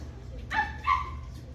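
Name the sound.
child imitating a dog barking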